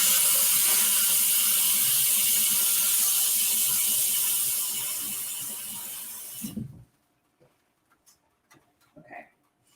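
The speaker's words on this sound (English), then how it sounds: "I'm turning the water on." Tap water gushes loudly for about six seconds, then shuts off abruptly, leaving a few faint clicks and handling noises.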